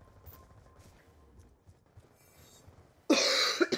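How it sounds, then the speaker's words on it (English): A sharp cough bursts out loud near the end after quiet background, from a gamer during a Black Ops 2 session, with faint game sounds before it. "Getting a lot of coughs."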